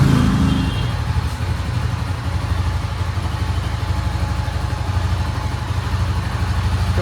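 A Honda CB300F motorcycle engine runs at a steady idle close by, a continuous low rumble that holds even throughout with no one speaking.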